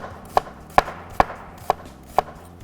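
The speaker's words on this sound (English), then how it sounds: "a little bit of red onion goes lovely in there. So I'm just going to cut that in half just through the middle." A knife chops through a peeled red onion halved through the middle on a board: five crisp, evenly spaced cuts, close and fairly quiet, with no talking.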